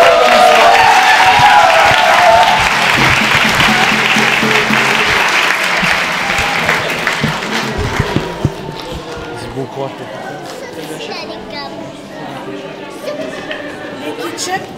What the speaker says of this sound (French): Est-ce qu'on peut leur faire un tonnerre d'applaudissements?